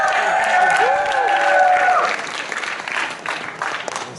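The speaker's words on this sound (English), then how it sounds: "give him a round of applause" Comedy festival audience applauding a comedian as he is introduced, a dense wash of clapping with some cheering that swells then thins out over a few seconds, with voices and music mixed in.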